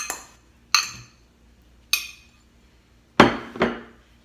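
A fork mashing cold butter into apple crisp topping in a bowl: five sharp, bright metallic clinks and knocks, spaced irregularly, with the last two coming close together and quiet in between.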